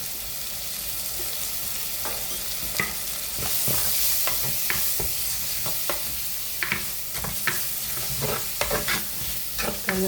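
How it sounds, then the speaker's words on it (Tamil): Onions with salt and turmeric sautéing in a pan for a Tamil fish curry, a steady sizzle broken by repeated scraping stirs and spoon clicks, close and fairly loud. "வெங்காயம் நல்லா வதங்கி கொண்டு வந்துட்டுது"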